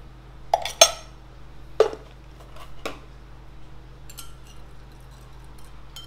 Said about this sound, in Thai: นี่ก็คนให้เข้ากันเลยครับ